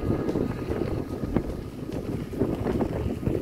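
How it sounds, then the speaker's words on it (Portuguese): Strong headwind buffets a camera microphone while cycling a gravel path around Lac-Saint-Jean, a loud, gusty, rumbling roar throughout with no speech. "Agora eu vou pegar muito vento frontal. Vocês podem até escutar aí na câmera."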